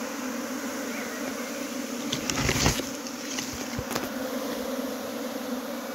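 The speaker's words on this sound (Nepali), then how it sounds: "बाहिर भएको मौरीहरू पनि उडेर आइरहेको छ।" A honeybee swarm flies back into its hive with a steady, dense buzzing hum close by. The drone swells briefly midway as bees pass near, and no one speaks.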